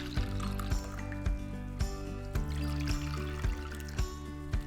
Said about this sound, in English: Once you hit the top, you pour some of the coffee out.